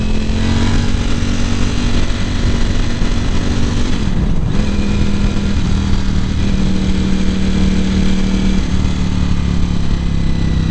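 2018 Ducati Panigale V4 racing motorcycle engine while riding, loud and close, holding a steady high drone with a brief dip and shift in pitch midway, as if changing throttle or gear.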